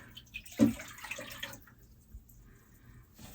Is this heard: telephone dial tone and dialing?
no